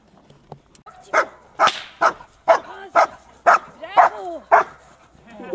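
Guard dogs barking during protection training, a run of about eight loud, evenly spaced barks close by, with a handler's voice calling out briefly between them.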